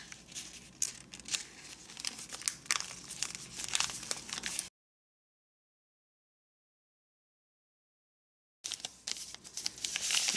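Folded paper units of an origami belt crinkle and rustle as they are handled and pushed together, close and intermittent crackles that stop for a few seconds of silence before resuming.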